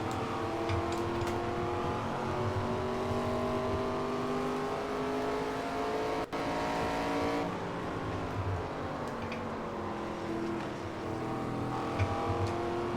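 Several NASCAR stock cars race in NASCAR 25, their engines droning loud and steady through the whole stretch, pitch rising and dipping as they rev through gears, with a brief sharp click near the middle.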